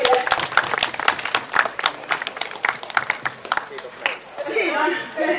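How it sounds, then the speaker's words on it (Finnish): Applause from a small outdoor crowd at an informal tractor-driving championship, uneven separate claps in a loose rhythm with chatter and talk running alongside. "isot aplodit kaikille"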